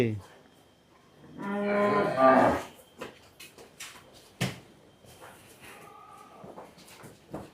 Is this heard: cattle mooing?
yes